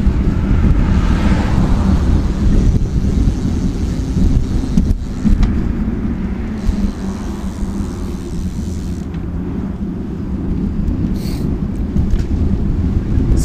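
Wind buffeting the microphone while commuting by bicycle, a continuous loud rushing roar with gusts rising and falling, mixed with low road noise and no talk.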